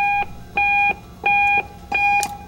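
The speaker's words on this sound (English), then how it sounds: "The speaker beeper sends the auto sequence 1K tone to all four bandpasses" A speaker beeper plays its 1 kHz test tone through a PA system, four evenly spaced, loud, steady beeps each lasting about a third of a second, with short gaps between them.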